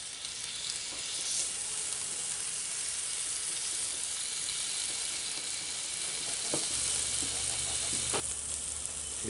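Stuffed chicken breasts sizzle steadily over a single layer of charcoal on a Sportsman's Grill, a continuous close, even frying hiss with a few faint clicks and knocks late on, no voices.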